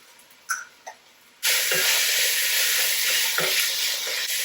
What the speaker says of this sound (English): Once that curry paste has warmed up and bloomed a little bit, where I can smell it